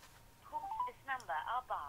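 A telephone call being placed, with ringback or dialing tones pulsing in a few short bursts, fairly close and clear, with no talk over it.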